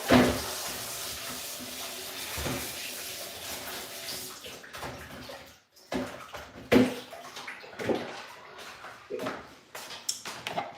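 Water runs and splashes in a sink while produce such as beetroot and ginger is washed for juicing, with irregular bursts of flow, clattering handling sounds and brief pauses, close by and without talk.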